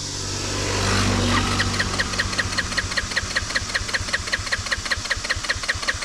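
Faulty motorcycle engine on a fishing trip, running roughly with a steady, uneven knocking pulse after an initial swell, close and loud with no talking over it.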